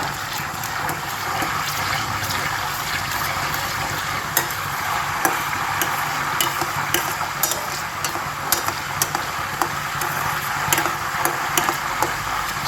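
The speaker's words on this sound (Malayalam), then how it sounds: "ഇളക്കി കൊടുക്കുക." Butter boiling down into ghee bubbles and sizzles steadily in a pan while a spoon stirs, giving sharp scraping clicks against the metal throughout.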